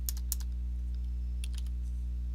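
Short bursts of keystrokes on a computer keyboard as a switch command is entered, a quick cluster of clicks, a pause, then another run of taps over a steady low electrical hum.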